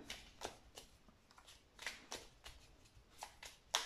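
Oracle cards being shuffled and cut, a series of soft papery riffles and slaps in an irregular rhythm, quiet and close, with no talking.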